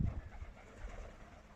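Soft, low cooing of a racing pigeon murmurs at moderate distance, a muffled throaty call with faint background noise.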